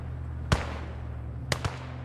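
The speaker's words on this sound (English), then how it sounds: "I'm going to drop a bomb on it and see if I can't get the kill" A dropped bomb bursts in the World War II game Gates of Hell Ostfront, heard as one sharp distant crack followed a second later by a quick double blast over steady low background rumble.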